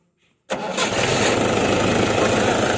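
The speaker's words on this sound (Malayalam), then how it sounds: "അപ്പോൾ നമ്മുടെ ട്രാക്ടർ സ്റ്റാർട്ട് ആയിട്ടുണ്ട്" A Mahindra 575 DI tractor's diesel engine cranks after near silence and catches at once, then runs on at a loud, steady, rough idle close by, with no one talking.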